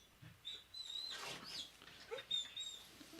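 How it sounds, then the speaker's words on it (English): A dog indoors gives faint, scattered whines and short yelps over a few seconds, distant and quiet against a low room background. "They can all hear the dog."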